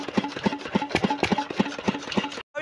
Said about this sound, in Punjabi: ਇਹਦਾ ਦੇਖੋ ਆਪਣਾ ਇੰਜਨ।